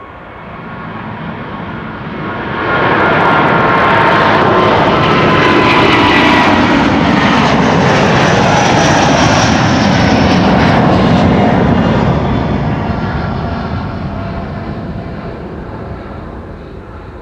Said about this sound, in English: Delta Airlines Flight 143 to Seattle, Washington is next. A330neo